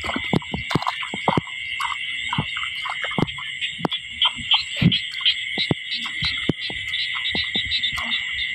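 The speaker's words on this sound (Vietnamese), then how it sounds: "con nhái ở đây ha" Frogs call at night in a flooded rice field after long rain, a dense chorus of sharp repeated croaks and clicks over a constant high insect drone, close and fairly loud.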